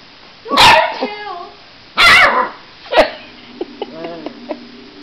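Puppy gives two loud sharp barks, then a short yelp, followed by softer whimpering, squeaky noises close by.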